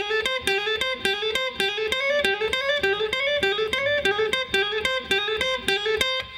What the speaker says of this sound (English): It's a cool little bluesy sounding lick using the blue note